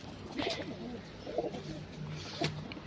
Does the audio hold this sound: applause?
no